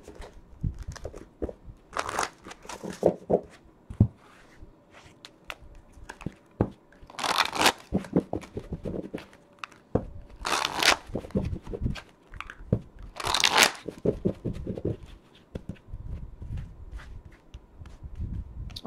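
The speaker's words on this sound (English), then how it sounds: "So we're just going to go ahead and shuffle." Tarot and oracle cards being shuffled by hand in repeated riffling bursts, crisp and close, with pauses and soft rustling between shuffles and no talk.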